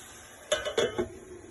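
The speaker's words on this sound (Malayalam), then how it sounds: "നമുക്കൊന്ന് ഇളക്കി കൊടുക്കാം." A utensil stirs chicken roast in a cooking pot, giving a few quick metallic clinks and scrapes over about half a second against a quiet background.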